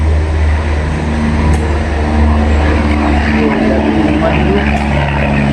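Loud, steady droning of a propeller airplane passing overhead a construction site, a continuous low rumble that holds throughout.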